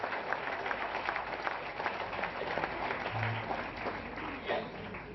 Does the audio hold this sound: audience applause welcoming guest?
yes